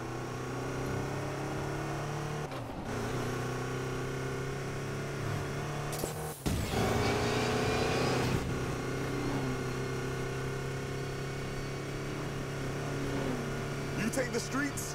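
Race cars in Need for Speed Payback roar in a steady, sustained engine drone, with a couple of sharp shifts and surges partway through and a faint clatter near the end.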